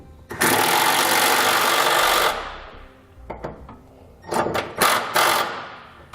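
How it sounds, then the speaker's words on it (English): A 3/4 inch socket wrench or impact tool tightens nuts on a gooseneck trailer hitch under a 2018 Chevrolet truck bed: a loud two-second mechanical whirring burst, then a few short clicks and a series of brief buzzing pulses nearby. "I'm going to come back with a 3/4 inch socket and I'm going to tighten those nuts up"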